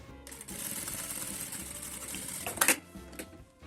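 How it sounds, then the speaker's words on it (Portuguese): Sewing machine running a straight seam with short reverse backstitches at each end, a steady close mechanical whir with a brief louder burst near the end, heard alone. "passo uma costura reta aqui, deixando mais ou menos meio centímetro aqui no começo e no fim sem costurar"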